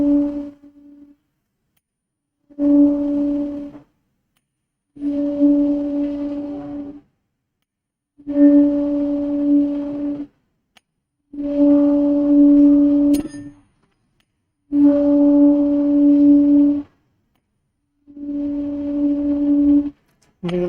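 A tuning fork resonating in a Helmholtz resonator gives a steady, pure humming tone in seven separate bursts of about two seconds each, with short silent gaps between them, fairly loud and clear.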